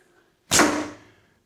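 An arrow is loosed from a premium Tatar carbon core bow, a single sharp snap of the string with a short whooshing decay, close and fairly soft.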